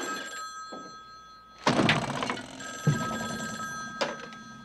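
An old telephone bell rings in a short burst after a quiet stretch, followed by clunky mechanical knocks and another brief ring, fairly close and with no one talking.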